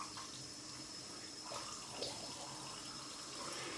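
Tap water runs steadily into a sink as a razor and face are rinsed during a wet shave, a soft, continuous close splash with slight shifts in flow and no talking.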